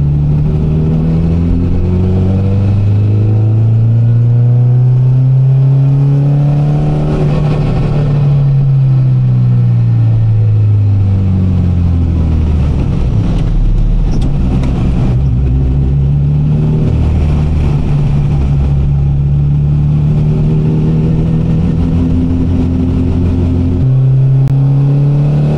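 A Honda Integra DC2 engine revs up and down while driving in the rain, its throaty note rising and falling in several loud, sustained pulls, close and continuous with no talk.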